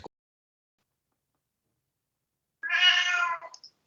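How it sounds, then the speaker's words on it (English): A Siamese cat lets out a single clear, drawn-out meow after a long silence, close and fairly loud, with a faint trailing chirp at the end. "Oh, that sounds like a Siamese."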